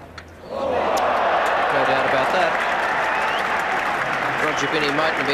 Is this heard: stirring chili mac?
no